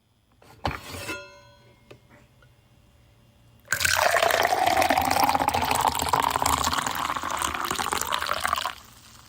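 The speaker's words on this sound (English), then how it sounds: "Just the pour of a coffee." Coffee is poured into a cup after a few faint clinks, a steady liquid stream running for about five seconds, its pitch gradually rising as the cup fills, close and clear with no talk.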